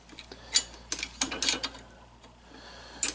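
A wrench ratchets while working on a Craftsman mower deck, giving a string of quick, close mechanical clicks in short irregular bursts that are loudest near the start and again near the end.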